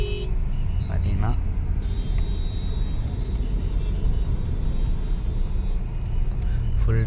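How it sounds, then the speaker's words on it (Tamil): Busy road traffic with engines rumbling and short car horn toots scattered throughout, heard near and moderately loud in a steady wash of vehicle noise. "full traffic ஆகிட்டிங்க"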